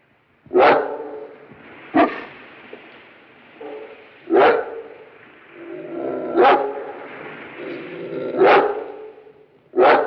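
A dog barks loudly and close by, sharp single barks spaced every couple of seconds, with low whimpering and whining murmurs between them in an indoor setting.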